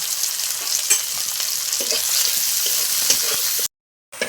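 Chopped onions and slit green chillies sizzle in a hot pan while a utensil stirs them with light scraping clicks. The close, continuous frying cuts out abruptly near the end.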